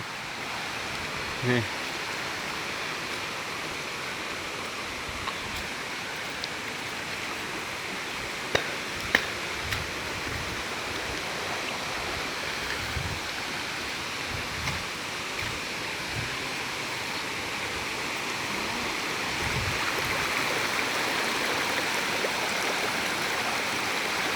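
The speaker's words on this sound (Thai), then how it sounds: "ฝนตก" Steady rain falls outdoors at a waterfall, making a continuous dense hiss of water throughout, with a few faint knocks and a voice barely audible beneath it.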